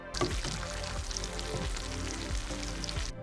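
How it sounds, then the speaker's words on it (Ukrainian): Steady crackling sizzle of potatoes frying in hot oil over medium heat, with a few soft clinks and stirring scrapes, close and continuous without talking. "Смажимо картоплю на середньому вогні хвилин 15, періодично помішуючи."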